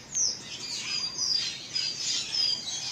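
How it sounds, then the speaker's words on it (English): Several birds chirp and tweet high in treetops in a rural province of Negros, Philippines, with repeated thin, bright calls carrying steadily at moderate distance over a quiet outdoor background. "You hear the birds?"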